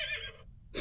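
A horse neighs in the video game Exile III: Ruined World, one short, bright whinny that fades into a brief pause before another sound starts at the end.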